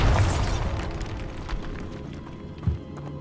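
The Bombarda spell goes off in the video game Hogwarts Legacy with a loud, deep blast at the start that rolls into a fading rumble, followed by a smaller thud near the end.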